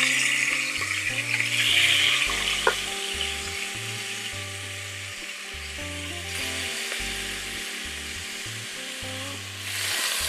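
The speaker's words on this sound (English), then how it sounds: "we're going to go ahead and brown these oxtails" Oxtail pieces browning in hot oil for a Jamaican oxtail dish, a steady close sizzle and crackle running throughout with a low background hum, no voices.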